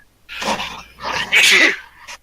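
A single human sneeze, close and loud, begins with quick breathy intakes and ends in a sharp burst, followed by a faint trailing breath.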